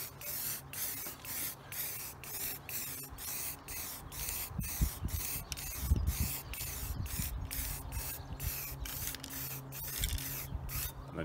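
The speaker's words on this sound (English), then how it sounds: "And then you just keep spraying till you're happy" Aerosol spray can hissing in repeated bursts over model terrain hills built for Warhammer 40K, close and steady with short pauses between sprays.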